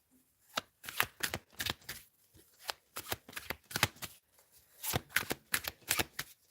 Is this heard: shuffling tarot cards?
yes